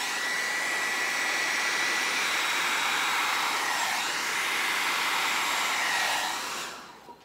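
Air blown steadily over poured acrylic paint with silver on 6-inch tiles for a Dutch pour, a loud, continuous close whooshing roar that cuts off at the end.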